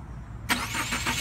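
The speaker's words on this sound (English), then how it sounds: "Just when you start up the car, you get some movement that'll show you the pivoting action." A Subaru car engine cranks and catches after a short quiet stretch, then settles into a steady, close idle.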